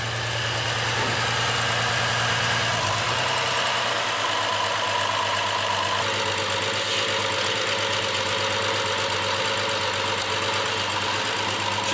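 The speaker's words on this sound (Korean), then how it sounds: "지금은 차가 덜덜덜덜 떠는 상황이에요." BMW F10 535i engine idling rough with heavy vibration and a fault present, a steady low rumbling drone that stays loud and continuous throughout with a slight shift early on, no voices.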